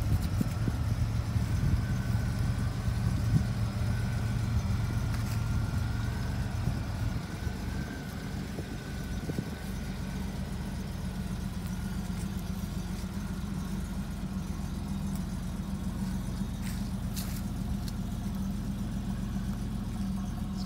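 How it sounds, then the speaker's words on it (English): 1987 Buick Grand National engine idling after a cold start, a steady low rumbling idle that holds even and continuous, heard nearby with faint background ticks and no talking. "The vehicle is running. This is a cold start."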